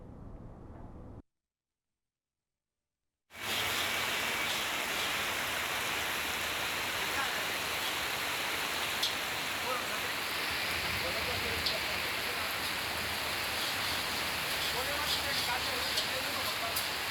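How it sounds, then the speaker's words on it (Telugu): Heavy rain pours down across Hyderabad city, a dense, steady roar of downpour on surfaces that fills the scene after a brief silent gap near the start, continuous and loud throughout. "నగరంలో చాలా ప్రాంతాల్లో భారీ వర్షాలు కురుస్తున్నాయి"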